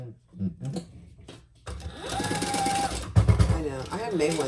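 A sewing machine top stitches a sling bag, running in a fast mechanical whir with short bursts, while someone talks before and over the stitching.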